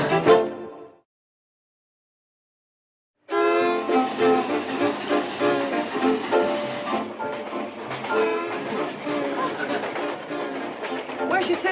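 A short burst of sound, a pause of silence, then a steady rumbling train with rhythmic clatter and tonal whistle-like bands continuing to the end.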